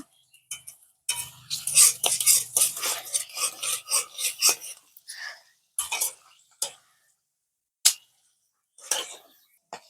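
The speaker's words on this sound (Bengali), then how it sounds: "তেল গরম হয়ে গেছে ভাই এক এক করে পাপড় গুলো ভেজে দেবো" Potato papads fry in hot oil, giving off loud, uneven bursts of crackling sizzle that swell and fade, then break into shorter spitting pops toward the end.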